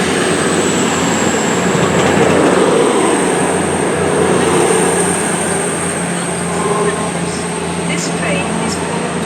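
A train pulls into Chesterfield station, a loud, broad rumble with a high whine running throughout, close by and steady, under a voice talking.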